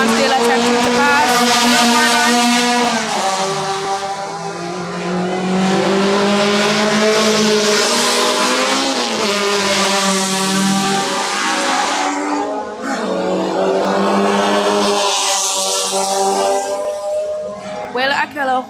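Race cars at the JRDC Carnival of Speed roar past in a tight pack at high revs, with the engine pitch rising and falling as they jostle to overtake. A commentator talks continuously over the loud, close engine noise.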